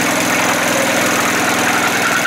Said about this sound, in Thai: เดี๋ยวลองติดเครื่อง